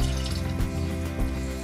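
Cachaça being poured into a glass for a caipirinha, a steady close liquid trickle running the full length with slight surges in the flow.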